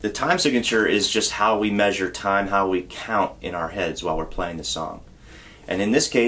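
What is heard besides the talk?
No distinct noise like a dog, phone or traffic.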